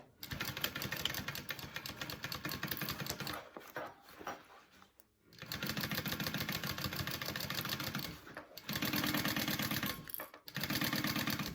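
A sewing machine top stitches a bag pocket in three loud, close bursts of rapid rhythmic clatter, separated by short pauses when the stitching stops and resumes.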